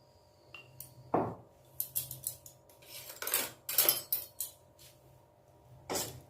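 Fish roe mixed with salt and turmeric in a bowl, with irregular clinks and scrapes of a utensil against the dish, a few sharper knocks, in a quiet kitchen.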